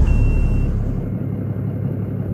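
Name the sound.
Cummins 525 hp truck engine in American Truck Simulator video game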